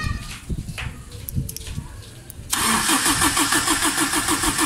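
A car with a defective starter cranks from a 12-volt battery, then the engine catches and settles into a loud, rhythmic pulsing run after a few seconds of quieter background noise.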